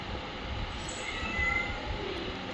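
A cat meows faintly, in a rising and falling call, over a steady wash of background noise during rain.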